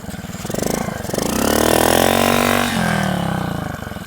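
A BMX bicycle fitted with a motorbike engine, ridden in a circle. The small engine buzzes loudly close by, its pitch rising and falling as it revs harder through the turn and then eases off.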